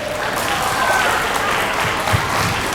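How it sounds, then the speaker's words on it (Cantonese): An audience at a Hong Kong international juggling competition gives a burst of applause, a dense, continuous clatter of many hands clapping close by that lasts the whole moment. "俾掌聲佢哋"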